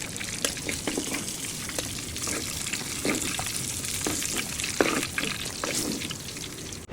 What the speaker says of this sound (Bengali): এখন মাছগুলোকে সুন্দর করে ভাজা হবে।